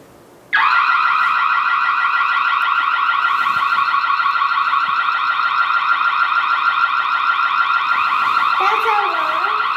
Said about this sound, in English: you can enable the siren